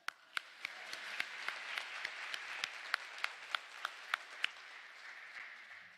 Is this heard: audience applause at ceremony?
yes